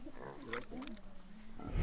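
A pot-bellied pig gives a few low, rough grunts up close, ending in a louder snuffling burst.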